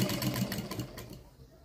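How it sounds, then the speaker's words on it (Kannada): A sewing machine stitching a lining blouse whirs in a quick rhythmic patter up close and then stops, with someone speaking softly over it. "ಆಮೇಲೆ ಒಂದು ಸ್ಟಿಚ್ ಹಾಕೋಬೇಕು ಮೇಲ್ಗಡೆಗೆ"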